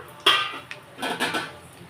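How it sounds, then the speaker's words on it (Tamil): Dry appalam pieces drop into a metal pan: a sharp clatter near the start, a light tap, then a cluster of crisp rattling contacts up close, with no voices. "இந்த அஞ்சு அப்பளாமையும் இதில் போட்டு நுடலாம்"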